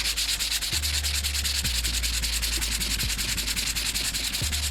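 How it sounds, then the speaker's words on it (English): Sandpaper rubbed back and forth over a spray-painted surface under medium pressure, a close, steady rhythmic scratching with regular strokes and no pauses, no talking. "So basically just gonna go ahead and sand this thing down and show you how I do it."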